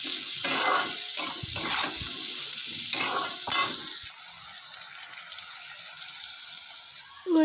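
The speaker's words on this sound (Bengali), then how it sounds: "এবার আমি মোল আর একটু কষিয়ে নেব" Spice paste of garlic, ginger, cumin, chilli and tomato fries and is stirred in a pan, a steady sizzle with scraping strokes over the first half, then settling into a quieter continuous hiss with a clack at the end.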